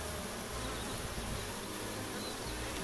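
Honey bees buzz around an opened beehive near the queen excluder, a steady, close swarm drone that holds evenly throughout without talk.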